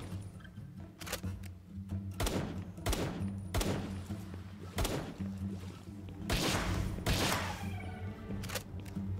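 Pistol gunfire in the Palworld video game: a series of sharp shots at irregular intervals, some in quick pairs, over a steady game soundtrack hum.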